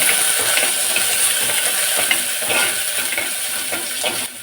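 Fish head curry masala with ginger and curry leaves sizzles loudly in a pan under constant close stirring, a dense crackle with light metallic scrapes and clinks.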